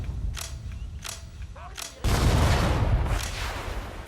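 Gunfire and grenade blasts in the WWII strategy game Sudden Strike 4, Battle of Sedan: several sharp bursts ring out over a steady battle din, then a loud, dense wash of firing and explosions takes over midway.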